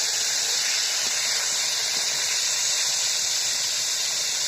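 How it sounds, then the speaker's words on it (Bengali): Salted, turmeric-coated cut potatoes frying in hot oil in a wok, giving a steady, even hiss with no break for the whole stretch. "কড়াই তেল গরম হয়ে গিয়েছে কেটে রাখা আলুগুলো লবণ হলুদ মাখায় রাখা আলুগুলো ভেজে নেবে এখানে"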